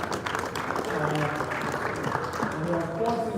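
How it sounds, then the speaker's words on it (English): An audience at a GText Holdings event at the Oriental Hotel claps continuously, with voices and chatter mixed into the steady sound of the clapping. "you can clap."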